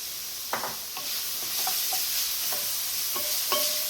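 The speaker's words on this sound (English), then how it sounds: "I'm going to put my cranberries in." Cranberries sizzle in a hot pan for a kale recipe, with a spoon scraping and stirring in several distinct strokes over a steady close frying hiss, no voices.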